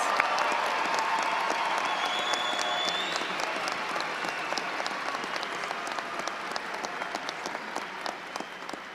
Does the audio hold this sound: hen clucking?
no